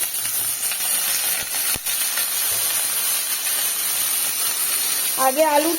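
A steady, close hiss of frying runs throughout, with a voice starting to speak near the end.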